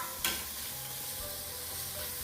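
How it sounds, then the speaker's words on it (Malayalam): Carrots sautéing in a pan for a home-cooked lunch, with a steady close sizzle, a soft stirring scrape near the start, and a low hum underneath throughout. "ക്യാരറ്റ് ഇട്ടിട്ട് അത് വേവണ വരെ നമ്മൾ വഴറ്റിയെടുക്കുക"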